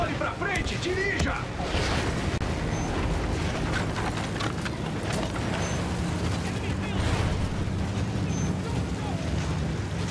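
Artillery fire in a video game, with booms and blasts scattered through a dense, noisy battle soundscape while voices shout over the action.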